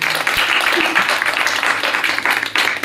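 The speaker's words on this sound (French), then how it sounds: "On peut applaudir les jeunes, les candidats." An audience at a youth environmental festival event in Avallon gives dense, continuous applause for the young contestants, a loud wash of many hands clapping at once.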